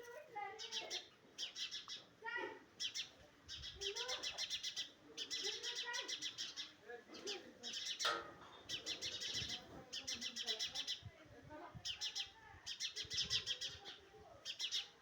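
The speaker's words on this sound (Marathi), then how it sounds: "हा चिमणा काहीतरी म्हणण्याचा प्रयत्न करतोय" House sparrows chirp repeatedly in quick bursts, close by and fairly loud, near a clay nest with chicks, with a few short pauses between the runs of chirping.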